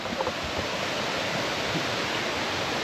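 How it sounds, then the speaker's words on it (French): A waterfall in Thailand roars as a steady, dense broadband rush, close and constant, with no voices. "on arrive à la cascade."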